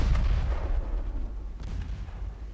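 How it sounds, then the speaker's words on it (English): Warship guns firing during a naval battle in Ultimate Admiral Dreadnoughts, a deep sustained booming rumble with heavy low thuds rolling continuously and a couple of sharper reports rising within it. "My guns are starting to work."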